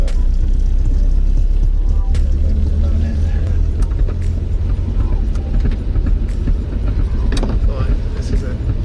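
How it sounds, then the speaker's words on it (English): A rare classic car, a garage find driven without working brakes, rumbles steadily from inside the cabin, its gearbox drone mixed with road noise and wind buffeting at the microphone, loud and continuous throughout. "You can hear the gearbox."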